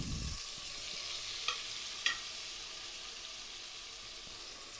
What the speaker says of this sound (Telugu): టమాటాలను యాడ్ చేసుకోవాలి